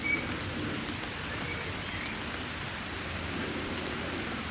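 Steady rain falls in woodland along a walking path, a dense, even hiss of drops on leaves and ground that holds constant throughout with no voices, heard from within a parked car or close by.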